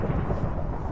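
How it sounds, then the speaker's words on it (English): Low, rumbling thunder with rain rolls steadily through a brief stretch of a pirate-themed video game, continuous and fairly loud with no voices. "And thunderstorm."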